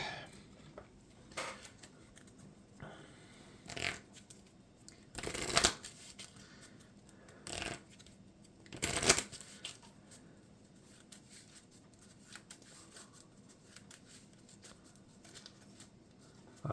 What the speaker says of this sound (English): And then the other 3 Fiery Rage cards get shuffled into the deck.